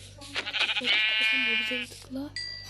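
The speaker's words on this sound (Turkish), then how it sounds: "Evet, Çağan o ikinci koyunu öldürüyor." A sheep bleats in a video game with a long wavering cry, loud and close, with a person talking over and around it.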